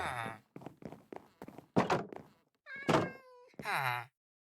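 A Minecraft cat gives a few clear meows in the game, interleaved with other short game sounds and thunks, loud and close, with no speech.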